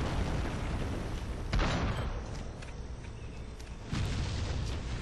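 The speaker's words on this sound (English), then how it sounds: "Fireball does seem to have a bit of an explosion with an AoE attached to it." Fireball explosions from the online game Panzar go off as two dull booms about two seconds apart, over a constant dense wash of game noise.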